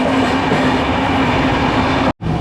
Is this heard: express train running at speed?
yes